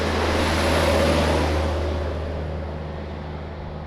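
An Airbus A330 airliner at Lisbon Airport gives a broad, loud engine roar that swells and then slowly fades as it moves away, heard from outdoors with no voices.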